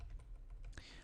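Fast typing on a computer keyboard, a quick run of light clicking keystrokes, close but quiet over a low background hum, with no speech.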